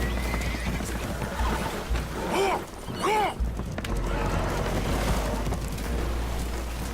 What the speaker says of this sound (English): The horses are confused. We need to round them up.